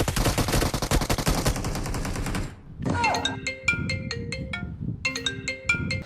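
A mobile phone ringtone plays a bright, repeating melodic tone pattern loud and close, cutting in right after a dense burst of rapid video-game gunfire from a PUBG match.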